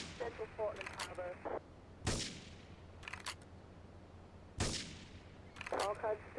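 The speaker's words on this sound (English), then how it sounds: "Investigate reports of gunfire and explosions." Gunfire and explosions sound in the video game Grand Theft Auto III: sharp loud blasts at intervals, with bursts of rapid shots between them, over a low background hum.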